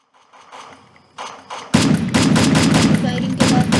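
Rapid gunfire bursts in a solo battle video game, faint shots at first and then loud, dense automatic fire close by with thudding impacts.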